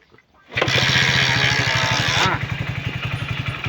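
A motorcycle engine fires up and settles into a loud, steady idle with a rhythmic, chugging pulse that continues close by to the end.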